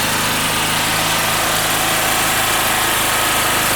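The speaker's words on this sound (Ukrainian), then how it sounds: "Так, генератор прогрівся." A Forte FG3500 petrol generator, 2.7 kW, runs steadily while warming up, its loud, even engine drone and vibration continuing unbroken throughout, with no talk over it.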